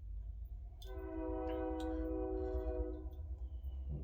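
A train passes close by, sounding a sustained multi-tone horn for about two seconds over a steady low rumble of rolling cars that continues throughout.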